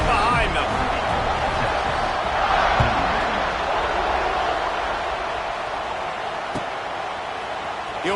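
A stadium crowd in an American football video game roars in a dense, steady wash of cheering at the kickoff, holding at an even loudness for the whole stretch with a faint swell near the middle.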